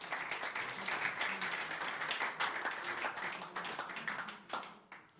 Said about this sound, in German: Ich denke, das ist ein Applaus wert.